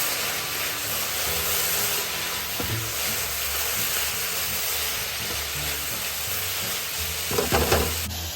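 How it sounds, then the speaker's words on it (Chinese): Grated coconut is stir-fried with sieved palm sugar syrup in a pan over low heat, giving a steady close sizzle and hiss with occasional scraping stirs of the spatula. "2片斑斓叶剪成小段加入，再继续拌炒。"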